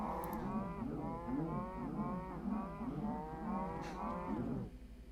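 Several cows in a Minecraft Bedrock cow farm moo over one another in a continuous overlapping chorus of low, drawn-out calls, fairly close and steady.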